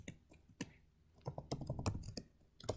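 Close-up keyboard typing in short irregular bursts of crisp key clicks, separated by brief pauses, faint overall and with no one talking.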